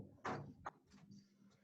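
A door in a room closes with a muffled push and a brief knock-like thud, heard close but quiet, followed by faint room noise.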